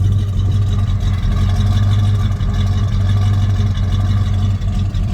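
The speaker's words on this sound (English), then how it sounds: "Nice throaty sound. 351 Cleveland 4-barrel." A 1970 Ford Mustang Mach 1 in Grabber Green with a 351 Cleveland V8 and four-barrel carburetor idles with a steady, throaty low rumble, loud and close, unchanging throughout.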